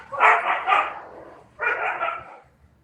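Two bursts of playful dog vocalizing, yippy barks and grumbly 'talking' sounds, close by, separated by a short pause.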